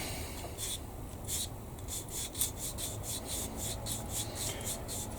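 Rapid rhythmic scratching of sanding on a small plastic part of a 1/16 scale Tiger I tank model, close and fairly quiet, strokes repeating in quick, even bursts.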